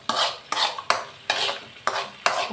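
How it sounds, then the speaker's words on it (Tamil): A spoon stirs and scrapes wilting spinach greens in a pan, giving six regular, evenly spaced strokes with a faint sizzle underneath. The scraping is close and clear, and no one speaks. "நல்லா கிண்டி விட்டுக்கிறேன். நல்லா வத்தி வரணும் கீரை."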